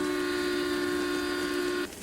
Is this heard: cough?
no